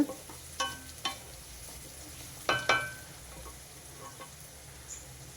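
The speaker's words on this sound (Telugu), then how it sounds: "అదే కడాయిలో ఎగ్స్ వేయించి" Eggs fry in hot oil in a kadai, giving a quiet, steady sizzle with a few sharp crackles and spatters popping up now and then.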